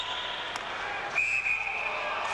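A referee's whistle sounds at a 1996 NCAA ice hockey semifinal between Vermont and Colorado College, a clear sustained blast standing out above the arena's crowd murmur.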